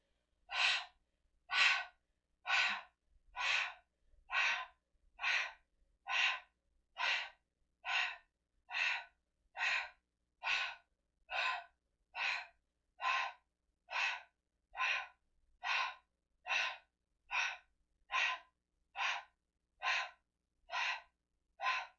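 Steady, rhythmic breathing during a Pilates magic circle leg exercise, about twenty-five even breaths in a row, close and clear with no talking over it.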